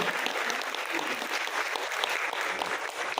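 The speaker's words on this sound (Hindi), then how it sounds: "एक बार जोरदार ताली हो जाए सभी के लिए" An audience at a national honours ceremony for women's empowerment in Delhi claps vigorously in a dense, even burst of applause that holds steady for a few seconds.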